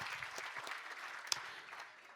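Guests at a fundraising gala and live auction applaud, a soft, fairly distant patter of clapping hands with one sharper clap standing out near the middle.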